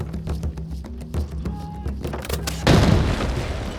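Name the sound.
grenade explosion in a video game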